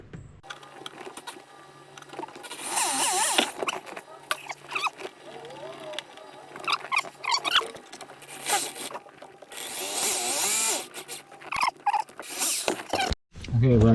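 A drill bit bores a hole while fitting a bamboo parcel tray to a 1961 VW Beetle, the close drill whining and chattering in uneven bursts with pauses between, loud and gritty at times.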